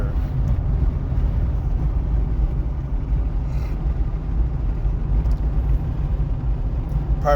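A car drives along with a constant low engine and road rumble heard from inside the cabin. It is loud and steady throughout, with a faint click or two on top and no talking.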